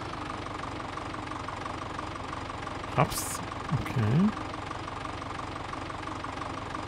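Old tractor engine idling in the farming game Landwirtschafts-Simulator 17, a steady low hum running through the whole clip, with a few short clicks and a brief spoken word over it.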